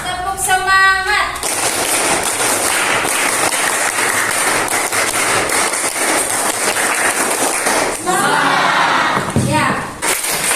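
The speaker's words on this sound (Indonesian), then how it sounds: "Kita mulai ya, tepuk semangat." A classroom group performs the rhythmic 'tepuk semangat' clapping routine as an ice-breaker, with loud, dense, sustained clapping from many hands. A brief stretch of talk or chant comes at the start, and another sits near the end.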